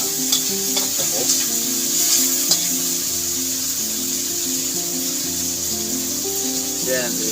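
Chicken, salt and other soup ingredients stirring and frying in a pan with a steady sizzle throughout, scraped by a utensil now and then, while background music plays under the cooking.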